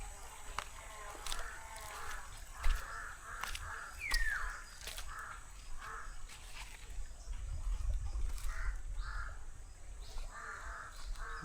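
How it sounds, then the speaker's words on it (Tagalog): Many crows caw outdoors in a natural setting, their harsh calls repeating at moderate distance and overlapping across the stretch, with faint scuffs and ambient rustle beneath. "Grabe, ang daming uwak dito mga guys."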